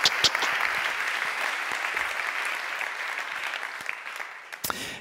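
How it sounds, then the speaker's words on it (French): Steady applause from an audience at an awards ceremony, dense and even throughout, with a few louder claps near the end before it fades out. "sous vos applaudissements, merci"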